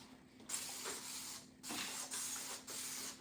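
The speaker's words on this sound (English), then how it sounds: "And I spray that on the dishes." Dawn Powerwash dish spray misted onto dishes in three short, close hissing bursts separated by brief pauses, quiet and without talk.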